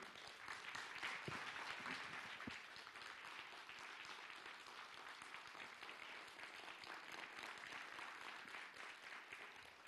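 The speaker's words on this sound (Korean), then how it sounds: "여러분 큰 박수로 맞이해 주세요" Sustained applause from a large lecture audience, dense and even throughout, with many hands clapping at once in a roomy space.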